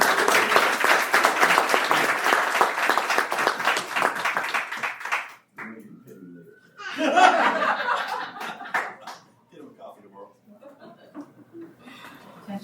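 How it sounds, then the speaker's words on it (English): A board meeting audience gives a dense round of applause for about five seconds, which then breaks off into scattered laughter and talk among the room. "And so we give a great round of applause for Ms. Nelson because she did a wonderful job"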